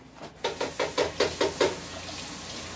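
Cold tap water poured into a pot for meatball sauce in a home kitchen: a run of about seven rhythmic splashing gulps, close and fairly loud, then fading to a quiet room hiss.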